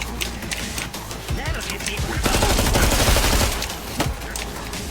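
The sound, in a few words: gunfire in Killing Floor 2 video game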